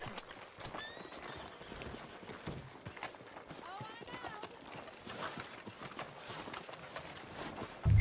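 Horse hooves clip-clop in a steady walking rhythm in the video game Red Dead Redemption 2, with a brief whinny and people talking over the scene.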